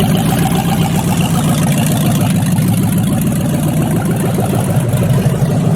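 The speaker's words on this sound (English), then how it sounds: "You guys hear that? That's an LS Miata." LS V8-swapped Mazda Miata idling loudly nearby, a deep steady rumbling burble with a lumpy rhythmic pulse, continuous and unbroken throughout.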